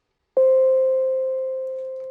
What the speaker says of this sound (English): like this is a really cool synth one shot